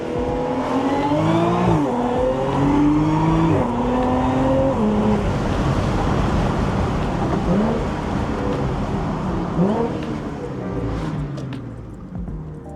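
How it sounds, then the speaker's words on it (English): A 400 hp supercharged Audi S4 on an evening drive, windows down, downshifting and accelerating, engine revs sweeping up and down with blips between shifts, loud and close, with a quick rev near the end. "I'm gonna show you guys what it sounds like over here"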